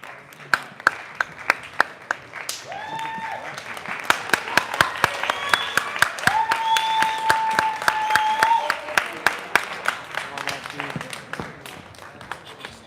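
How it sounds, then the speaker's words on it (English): A concert audience claps for the seniors, scattered sharp claps over a sustained tone and sliding musical pitches, with talk mixed in at moderate loudness. "Seniors line up out front, and then we clap for the seniors."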